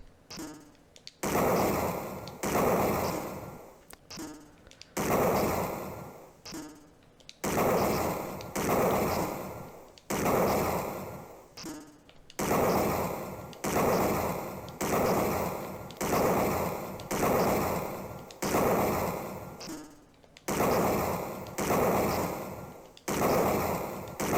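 Gunshots from targeting enemies in the Sega CD game Snatcher. Loud bursts of fire repeat in a steady rhythm, each about a second long, with short gaps between them, and no talking.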